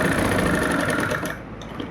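Sewing machine stitching a kurti, a loud, close, steady motor whir with rapid needle chatter that runs continuously and then winds down near the end.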